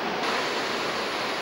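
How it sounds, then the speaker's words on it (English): Artificial waterfalls at a hotel pour in a constant, dense rush of water, steady and fairly close, with no voices. "There are these artificial waterfalls everywhere"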